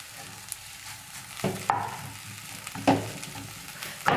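A spatula stirs tapioca egg masala in a frying pan, steady close sizzling with a few scraping knocks of the utensil against the pan.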